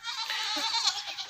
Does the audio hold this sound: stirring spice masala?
no